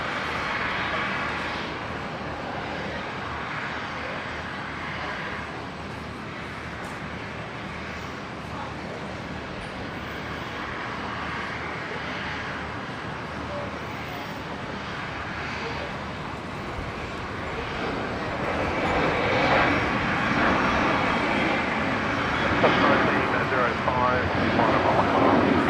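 A Qantas airliner from Perth touching down on runway 19 left at Brisbane Airport makes a distant, broad engine roar that swells toward the end, heard under steady conversation between people nearby.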